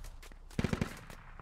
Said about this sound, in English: Shots coming in on this Dishka Technical.